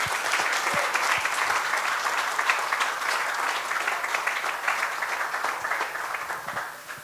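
Sustained applause from a crowd at the grand opening of a Hindu temple and community centre in Oxford, honouring a family, dense steady clapping for about seven seconds that tapers off at the end.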